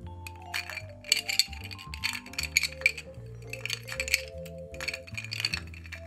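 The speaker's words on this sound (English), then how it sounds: "Finally, stir and serve." A spoon stirs a Godfather cocktail of scotch and amaretto in a glass, giving loud, close, rhythmic clinks and rattles of ice against glass throughout.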